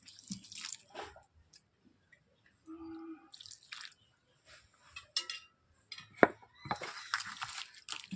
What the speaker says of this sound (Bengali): এরপর ফুলকপিটাকে আমি ধুয়ে নিচ্ছি।